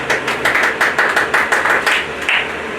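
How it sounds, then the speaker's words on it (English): A small audience claps in a quick rhythmic pattern of distinct bursts during a talk on boundaries and peer pressure, close and fairly loud with short gaps between volleys. "Let's clap for her, please."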